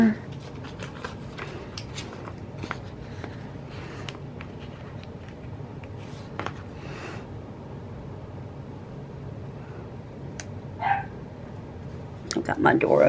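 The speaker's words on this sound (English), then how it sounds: "Got my door open and you hear my dog." A dog barks through an open door, somewhat distant and intermittent, with a few sharper yips near the end, while a person talks over it indoors.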